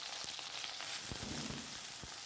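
Faint sizzling of cauliflower frying in oil, a steady hiss with a few soft clinks and taps near the pan.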